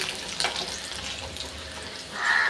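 Garlic frying in hot oil gives a continuous close sizzle that swells louder near the end.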